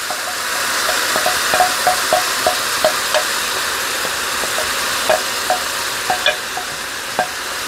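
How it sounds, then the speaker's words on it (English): Sauce in a steak frying pan gives a steady loud sizzle, punctuated by a rhythmic series of light taps and scrapes from stirring, close and continuous throughout. "I'm going to go ahead and go straight to my pan where I was just cooking the steaks."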